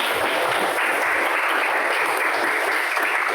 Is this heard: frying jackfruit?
no